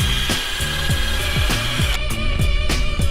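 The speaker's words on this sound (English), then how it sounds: "stick it in the end of a drill really fast like this" A power drill spinning a wire whisk blends watermelon, whirring steadily while it repeatedly thwacks and rattles in a fast, even rhythm, loud and close.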